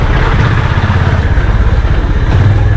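Honda CB350 cruiser motorcycle engine thrumming steadily during a test ride, a loud, close, continuous low rumble with even pulsing and no talk over it.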